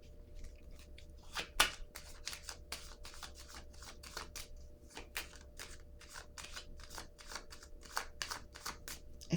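Tarot cards being shuffled and drawn, a run of crisp, rapid papery flicks and snaps close up, with a sharper slap near the start and no talking over it.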